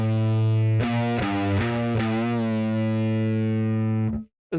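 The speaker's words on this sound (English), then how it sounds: "See what the bright switch sounds like." Distorted electric guitar played through a Quad Cortex amp model with the bright switch on: a sustained, heavy chord sounds first, then several quick strummed re-attacks ring out and hold before cutting off abruptly, with no talk.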